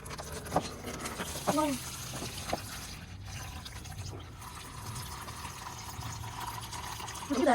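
Radiator liquid drains out, pouring and trickling steadily into a container, with a few brief clinks and knocks and a faint murmur of voices in the background.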